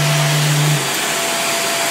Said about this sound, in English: besides that strange harmonics noise,